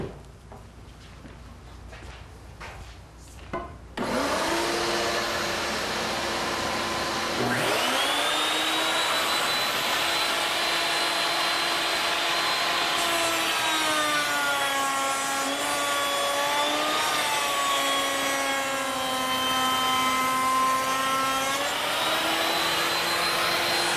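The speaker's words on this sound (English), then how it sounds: "now that you've run it through that router" A wood router cuts a piece of wood for shutters, starting after a brief rustle and running as a loud, steady high-pitched whine with tonal shifts as the bit bites into the board, continuous to the end.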